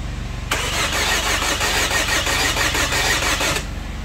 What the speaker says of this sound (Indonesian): setelah itu baru kita pasangkan soketnya dan kita hidupkan mesinnya